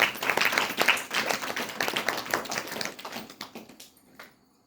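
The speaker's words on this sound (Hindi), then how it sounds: "ताली होना चाहिए और दोनों बच्चे के लिए।" An audience claps after a talk on overcoming cancer, a dense burst of hand claps that thins out and fades to silence near the end.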